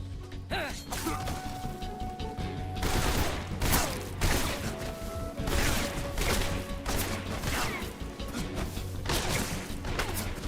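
Continuous gunfire from Metal Gear Solid Delta, dense rapid bursts of shots and impacts hammering loud and close almost throughout, with a short quieter lead-in before the shooting takes over.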